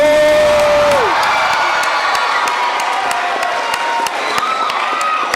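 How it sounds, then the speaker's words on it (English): A school crowd at the World of Inquiry School dedication ceremony shouts, whoops and cheers loudly and continuously, with children's voices and some clapping, after a man's short call. "Let me hear some shouting out there."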